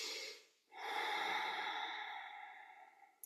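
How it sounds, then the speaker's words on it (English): A slow exhale of breath, close and soft, as a steady airy rush that begins after a brief pause and gradually tapers off, with a faint earlier breath at the start. "So we'll exhale"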